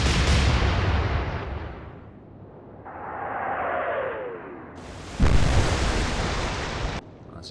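A naval gun salvo fires in the warship game Atlantic Fleet: a loud booming blast rolls off, a shell whistles and whooshes through the air, then a second heavy explosion hits sharply near the end, with no talking.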